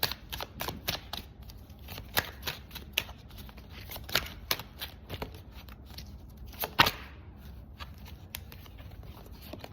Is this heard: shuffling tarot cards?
yes